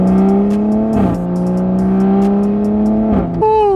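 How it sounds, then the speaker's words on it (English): An MHD-tuned Toyota Supra engine pulls hard and loud through the gears, its tone climbing steadily before dropping sharply at each quick upshift, twice in close succession. "Ooh, she do rip through gears though."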